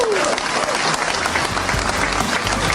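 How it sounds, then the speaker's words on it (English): A crowd at an event applauds in a steady burst of clapping with some cheering, played back from a recording, continuous and fairly loud for the whole stretch. "And they clapped."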